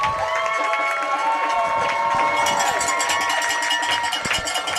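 A high school football crowd cheers loudly as the home team runs onto the field, shouting and whistling over clanging cowbells and a steady roar.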